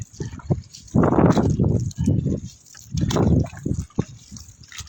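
Strong sea current surging along the shore at Kawit, Cavite, with loud rushing water swells that rise and fall in a few waves, close and dominant.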